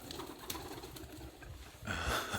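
Pigeons coo inside an abandoned mausoleum in Romania, soft and low against a hollow, faintly noisy room tone, with a brighter burst of activity near the end.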